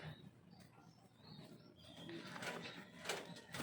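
Pigeons coo faintly outdoors in the morning, soft and fairly distant, while a broad rustling noise builds toward the end.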